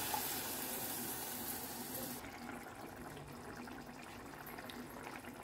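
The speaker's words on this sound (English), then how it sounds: "For gravy consistency, I am adding 1/2 glass of water here." Half a glass of water is poured into a pan of prawn masala curry, giving a steady wash of rushing, splashing liquid that softens into a quieter sizzle and bubbling.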